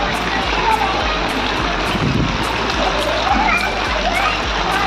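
Children splash and play in rain floodwater in a Rajasthan village, steady watery splashing and churning close by, with voices talking over the scene.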